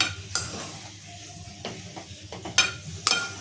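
Spoon or spatula scraping and clinking around a hot pan as spiced potato bhaji filling for vada pav is mixed, with a light sizzle underneath and a few sharper metallic knocks standing out near the end.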